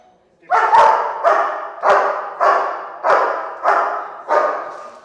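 A dog barks on command seven times in a steady, evenly spaced rhythm, loud and close, with no other sounds between barks.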